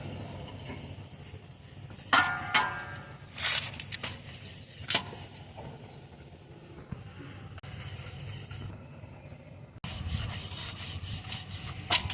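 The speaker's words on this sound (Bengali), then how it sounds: "এখন আটা দিয়ে বেলে নেবো" Rolling pin working paratha dough made with beetroot, carrot and spinach, giving soft rubbing and scraping strokes in uneven bursts, close and fairly quiet, with some louder knocks and shifts.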